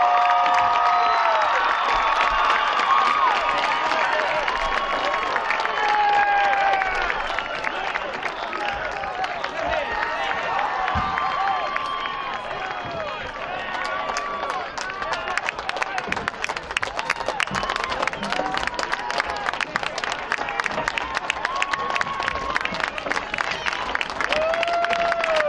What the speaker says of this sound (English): Fans, if we could get a round of applause for both teams tonight on an outstanding sectional championship game.